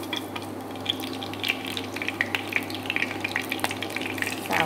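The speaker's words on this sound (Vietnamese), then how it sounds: "Xào khóm." Pineapple is stir-fried in a hot pan, giving a steady close sizzle broken by scattered ticks and scrapes as the pieces are tossed and stirred, with a low hum underneath.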